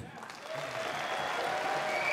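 Audience applause rising from a softer start into steady, dense clapping across a hall, continuous and fairly even, with no voices over it.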